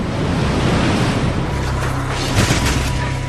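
Storm waves and wind off Shikoku, Japan, keep up a loud, continuous roar of surf and gusting air. A heavier surge crashes in near the end.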